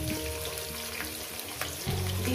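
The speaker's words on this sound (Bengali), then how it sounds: "পেঁয়াজটাকে দিয়ে আমি একটু 2 মিনিট ভেজে নেব।" Onions fry in a pan for a spicy fish curry with okra, giving a low continuous sizzle under a hum of kitchen background, fairly quiet and without any talk.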